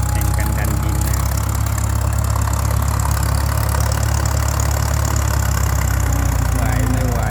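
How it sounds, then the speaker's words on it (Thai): A Ford tractor engine rumbles loud and unbroken while pushing soil in a tractor contest, with someone talking over the deep, steady drone. "ตอนนี้เรามาดูรถไถแข่งกันก่อน แข่งกันดันดินนะ"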